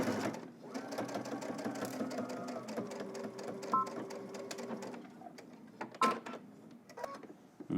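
A sewing machine runs in steady bursts as it stitches fabric for a Simplicity S3037 garment, with brief pauses and small clicks between runs, close and moderately loud with no talking.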